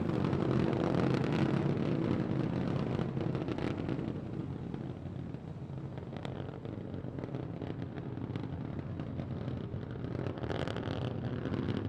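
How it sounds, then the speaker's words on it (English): Continuous distant rumble from the three Raptor rocket engines of the SpaceX Starship SN15 during its test flight, a steady broad roar heard from far away without pauses. "All 3 Raptor engines continuing to burn."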